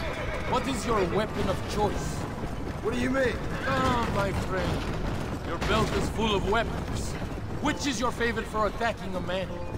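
Horses neigh and whinny in the Red Dead Redemption video game, with a Spanish-speaking player talking almost continuously over them and faint hoofbeats and gunfire mixed in.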